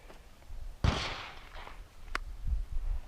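A single sharp gunshot cracks loudly at shooting practice, followed by a short echoing decay and a fainter, brief secondary pop, with low rumbling ambience around it.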